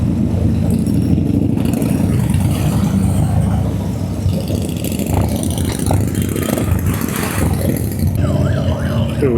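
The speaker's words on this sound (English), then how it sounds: "Lots of motorbikes." Motorbikes ride in a Christmas toy run, a loud, continuous rumble of several engines close by with rising revs, heard alone with no talk.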